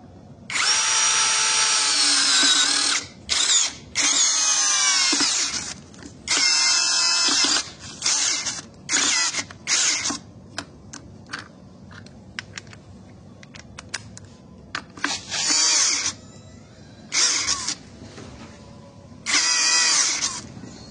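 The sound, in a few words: brushless impact drill driving 15 cm screw into hard wood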